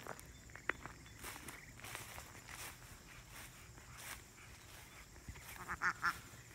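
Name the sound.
ducklings and ducks quacking in a barnyard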